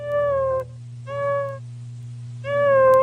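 A guitar effect imitates a tabby cat's meow, producing three drawn-out, pitch-bending meow-like tones, each about half a second to a second long, with gaps between them over a steady low hum.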